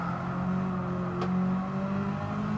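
A four-wheel-drive rally car engine on a WTC700 build drones steadily at high revs with a strong, even tone and a brief sharp click partway through, heard from inside the car.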